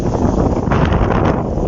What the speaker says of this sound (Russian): вызвав ураганный ветер с порывами до 40 метров в секунду